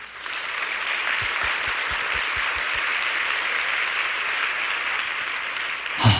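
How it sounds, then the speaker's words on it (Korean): A church congregation at a Holy Impact Tuesday worship gathering claps in encouragement, a steady, even roar of many hands filling the room at moderate volume, ending with a brief bump of noise. "한번 격려의 박수 해주시겠어요?"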